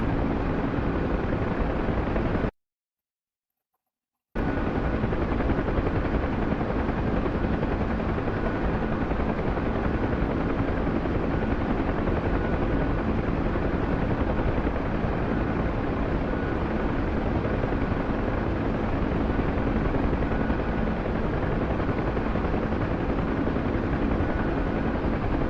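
A helicopter rotor in a VR flight game carrying survivors on board. The rotor drones steadily and loudly throughout, broken only by one short gap of silence.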